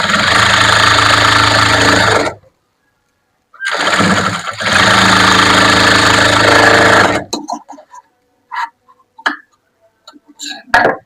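Sewing machine stitching the shoulder seam of a chudidar, loud rapid mechanical whirring in two long bursts with a short pause between, followed by scattered clicks and handling knocks.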